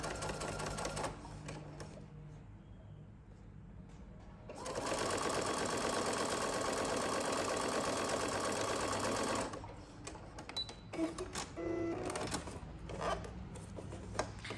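A sewing machine stitches straight along a fabric edge in one steady, close run of about five seconds in the middle, with quieter handling noises and light rustling before and after.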